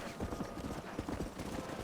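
Horse hooves clip-clopping in Red Dead Redemption 2, a quick, steady trot of hoofbeats close by at moderate loudness, with faint voices underneath.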